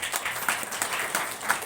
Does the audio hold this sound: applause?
yes